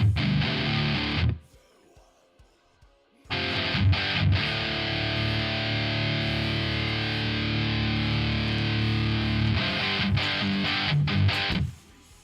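Loud, dense distorted electric guitar chords from an amp modeler alone, with no pedals, ring out, briefly cut off for a couple of seconds, then resume with sustained heavy tone before stopping.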